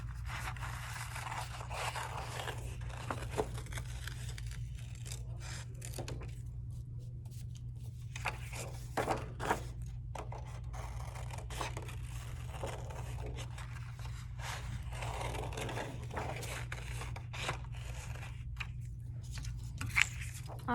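Scissors cut small paper circles for a Picasso-style collage face, producing quiet intermittent snips and paper scraping and rustling close by over a low steady background hum, with no voices.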